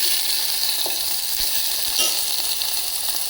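Vegetables frying in a pan as the base for a vegetable sambar, including gourds and eggplant, sizzling steadily and loudly with constant broadband crackle and occasional stirring bumps, close up with no talk.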